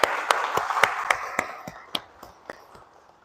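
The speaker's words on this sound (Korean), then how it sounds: "우리 따뜻하게 박수로 환영하겠습니다" A church congregation at an Anglican service in Washington claps to welcome visiting guests; sharp, scattered handclaps thin out and fade over a few seconds.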